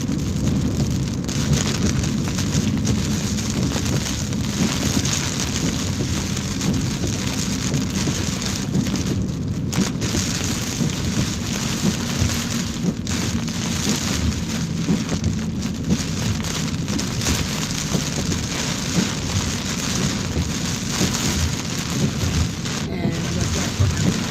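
Heavy rain drums steadily on a moving car during a road trip, a dense, loud roar of water that never lets up, with road noise underneath and brief dips in intensity.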